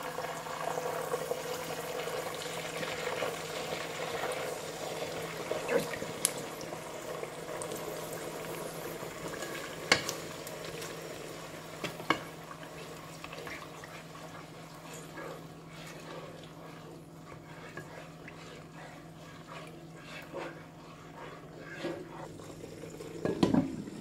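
Tomato paste and tomato purée cook in hot oil, giving a soft, steady bubbling sizzle at low volume with occasional louder pops and clicks and no talking.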